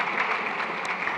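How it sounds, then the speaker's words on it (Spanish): Applause from an audience at a lecture-style talk, a steady, dense wash of clapping heard from within the hall at moderate level, with no one speaking over it. "Le diré a mi amigo que ha recibido un aplauso"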